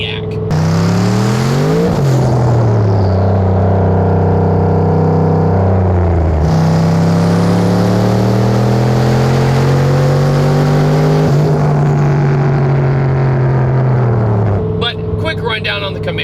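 Exhaust of an 800-horsepower Camaro with a Silverado engine swap and side-exit exhaust, loud close roar rising in pitch through repeated accelerations and gear changes, sustained and continuous across the clip.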